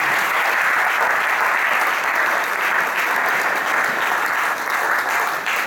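Loud, sustained applause from a church congregation gathered for a seminar, a thick steady roar of many hands clapping without pause.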